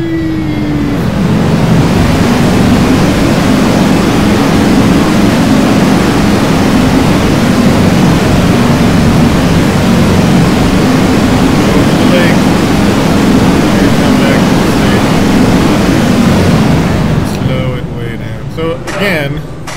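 A simulated B&M floorless roller coaster in NoLimits 2 gives a loud, steady roaring rumble of train and wind noise that holds for most of the ride before easing off at the end, with a voice talking over it.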